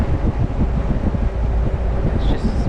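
Gusty wind buffets a sponge-covered microphone with a low, rumbling roar over the engine drone of a moving Willys Hotchkiss M201 jeep, with a brief higher tone near the end.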